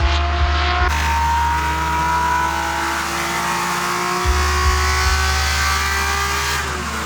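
A Datsun 240Z's engine revs hard toward 8,000 RPM, a loud, sustained close-up roar with rising pitch and brief tire chirps mixed in, the revs climbing steadily for several seconds before easing slightly at the end.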